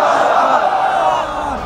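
A large religious gathering at an Islamic sermon gathering in Faridpur shouts back in unison after a takbir call, a loud sustained massed crowd cry of many voices filling the space before tapering slightly.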